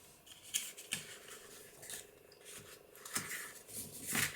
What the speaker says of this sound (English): I'm going to cut an angle there between those two folds.